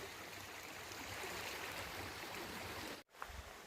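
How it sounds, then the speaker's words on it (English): Agua Caliente Creek flows in a steady, full rush of water, heard alone and fairly quiet, with a brief dropout near the end. "This is Agua Caliente Creek."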